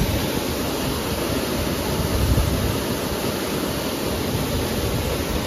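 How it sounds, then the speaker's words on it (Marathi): A monsoon waterfall near a hillside temple roars as a steady, dense wash of broadband rushing water that fills the whole clip with no voices. "इथे धबधबा"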